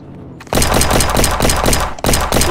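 Enemy gunfire in a bounty-hunting video game, loud rapid automatic bursts close by, one long stream broken by a short pause before another burst.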